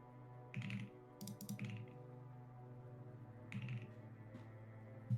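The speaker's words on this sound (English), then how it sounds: "keyboard's having a fit, so I'm typing nothing" A malfunctioning computer keyboard gives short, irregular bursts of clicky keystrokes separated by pauses, fairly faint over a steady low hum.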